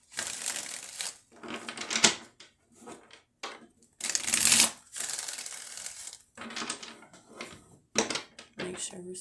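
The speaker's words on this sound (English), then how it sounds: "I shuffle all different types of ways." Tarot cards shuffled by hand at close range, a run of crisp papery riffles and flutters in irregular bursts with short pauses between them.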